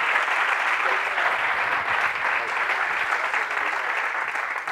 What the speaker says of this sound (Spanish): otro aplauso para Raúl